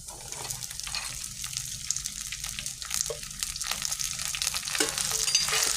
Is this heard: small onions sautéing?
yes